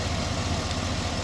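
An L92 V8 engine in a Yukon-type truck idles with a fault that holds the idle high, giving a steady, close, rumbling drone with an even low pulse throughout and no talk.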